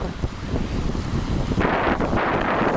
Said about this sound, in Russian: ветер не прекращается